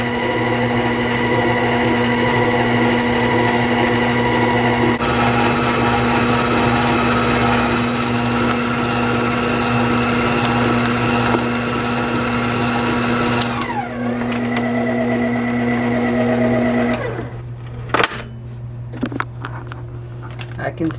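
An electric mixer beats chai sugar cookie dough, a loud steady motor whine with tonal hum that shifts pitch midway, then winds down and stops, followed by a brief clatter.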